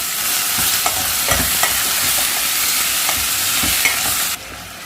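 Tomatoes frying in a pan are stirred, a steady close sizzle broken by soft scrapes and taps of the spoon, before the sound drops away near the end.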